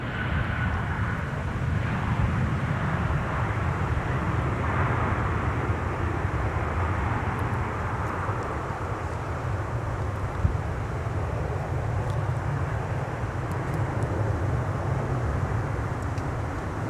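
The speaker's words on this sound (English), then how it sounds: "American Airlines with an A321 from Charlotte Douglas. Touching down on 12 right." An American Airlines A321 airliner touches down on runway 12 right at Minneapolis–St. Paul Airport, a broad continuous engine roar and rumble heard from a distance, steady throughout with no voices.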